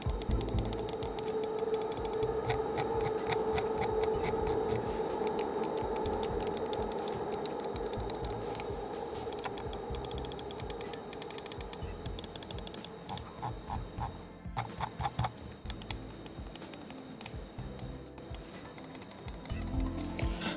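A Vaxee gaming mouse clicked rapidly and continuously up close, producing a dense, crisp stream of small plastic clicks with no talking.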